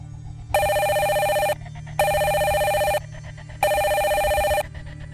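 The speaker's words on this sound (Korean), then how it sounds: "정적을 깨며 전화벨 소리가 요란하게 울려 퍼졌다" A telephone bell rings loudly as a radio horror drama sound effect, three long bursts about a second each with short gaps between, each one bright and shrill.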